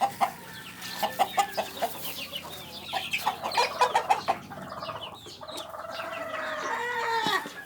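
Black Yunnan hens in Chiang Rai cluck and chatter in a busy flock, with short overlapping calls and a crow-like note near the end, heard at close to moderate distance.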